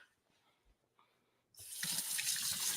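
A kitchen sink tap opens suddenly after a few faint thuds, releasing a loud, steady rush of running water as hands are washed during cooking of pork chili verde.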